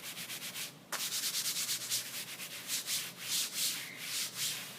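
Close, steady rubbing and scraping of a thick, heavy rubber playmat being handled, with a continuous gritty texture and small bumps.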